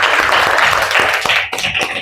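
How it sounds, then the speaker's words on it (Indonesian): A classroom of students claps for a student group, a dense burst of close, loud hand claps that continues for about two seconds before breaking into scattered final claps. "silakan beri tepuk tangan kepada kelompok"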